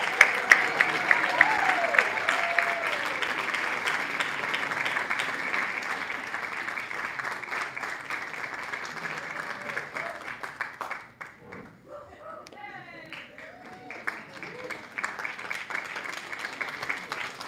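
A hall audience claps and applauds for award recipients at the Connecticut Arts Awards at Infinity Music Hall, steady sustained clapping that thins briefly near the middle, then picks back up with scattered claps.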